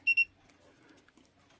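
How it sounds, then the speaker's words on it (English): A HIOKI DT4261 digital multimeter beeps while measuring resistance: two short, sharp, high-pitched beeps close together at the start, then quiet background with faint handling noise. "the instrument makes a continuous buzzing sound while it is locking onto a reading."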